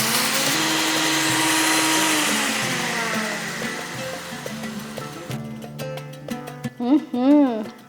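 An electric grinder grinds dry-roasted spices with salt for a fish curry, a loud, steady whirring that gradually fades, followed by a voice speaking.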